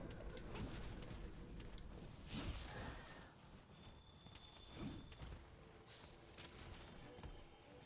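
Ambient bird calls from Monster Hunter World: Iceborne, with soft cooing and chirps over a busy game soundscape, faint and somewhat masked by other effects.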